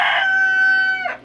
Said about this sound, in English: my chickens are so loud today